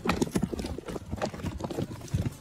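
Hooves of passing wild horses clip-clop in a quick, uneven patter, close and fairly loud, with no voices over them.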